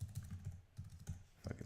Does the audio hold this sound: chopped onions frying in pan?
no